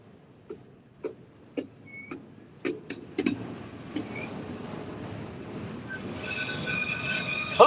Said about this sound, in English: It's an old Conrail auto rack.